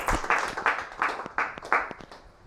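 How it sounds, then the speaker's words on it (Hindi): A small group at an old age home event claps in a slow, even rhythm, about half a dozen distinct beats, moderately close and fairly soft. "दोस्तों जोरदार तालियां हो"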